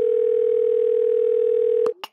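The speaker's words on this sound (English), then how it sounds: "Hold your horses, it's ringing." A steady, loud electronic telephone tone holds for nearly two seconds, then cuts off and is followed by a couple of brief clicks and a short burst of noise, as if the call connects.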